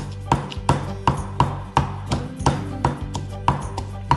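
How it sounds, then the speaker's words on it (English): Red chili pepper is pounded with coarse sea salt in a mortar for Thai red curry paste: steady, evenly spaced heavy thuds, about three per second, close and loud, with no talking. "Let's get pounding."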